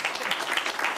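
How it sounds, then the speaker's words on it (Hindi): A short burst of hand clapping plays from an applause emote in an online battle-royale style game, with brisk, close, even claps throughout. "लेकिन मैंने उसके लिए तालियां बजा दी।"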